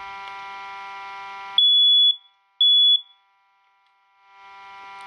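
A First Alert smoke alarm under test lets out two loud, piercing electronic beeps, about half a second apart. A steady electronic hum runs before them and returns faintly afterward.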